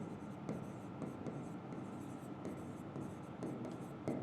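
A teacher writes out a sample space on a board during a maths lesson: quiet, rapid scratchy strokes in short bursts, with faint voice and room noise underneath.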